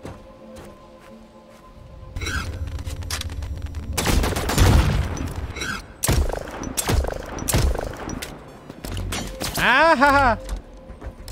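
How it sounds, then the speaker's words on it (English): Gunfire in the video game The Signal From Tölva: bursts of rapid shots and crackling impacts, loud and close, mixed with other game effects and a warbling electronic tone near the end. "The gun sounds so sick."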